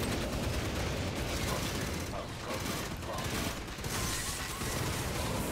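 Dense rapid gunfire from the video game Aliens: Fireteam Elite, a steady crackling fusillade that runs for several seconds at moderate level, with faint voices underneath.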